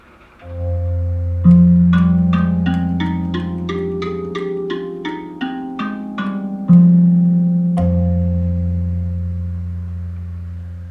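A handpan in Low Pygmy tuning rings out with a deep low F2 bass tone, then a run of bright metallic notes climbing and falling before the low note sounds again.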